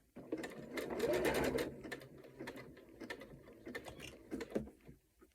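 Sewing machine zigzag stitching a strip of fabric bunting, a sustained close whirring run in the first seconds followed by shorter bursts and handling noises.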